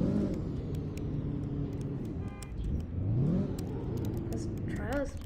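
A 1000hp Hyundai Sonata N launches and accelerates hard, its engine droning and rising in pitch under steady road and wind noise inside the car, with people talking over it.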